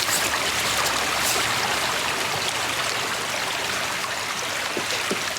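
A small creek flows steadily through a wooded ravine along a hiking trail, a continuous close babbling rush with no voices.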